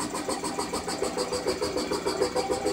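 A 1920s air compressor runs steadily and smoothly, a continuous mechanical drone with an even pulsing rhythm, close and fairly loud, with no voices over it.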